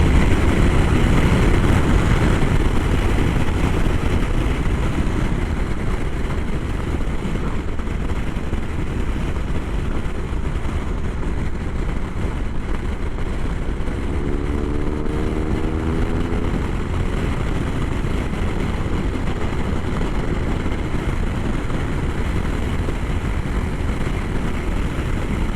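BMW R1200 RS motorcycle accelerating on the road, with a loud, steady engine drone blended with heavy wind rush throughout and a brief rising tone partway through.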